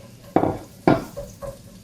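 Onions cook in a pan for Dublin coddle, with two sharp loud clatters of a utensil against the pan followed by lighter scrapes over a faint underlying sizzle, close by.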